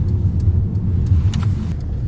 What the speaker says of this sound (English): Oh look, there's my car.